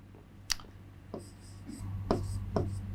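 Marker or chalk strokes on a classroom board during a spoken English lesson, a few short scratchy squeaks spaced apart over a low steady hum, fairly close and moderately faint.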